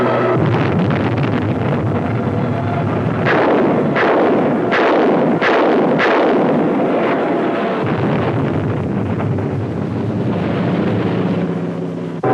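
Secondary explosions from a munitions cache struck from the air: a series of heavy booming blasts and rumbles over constant roaring wind noise, loud and sustained.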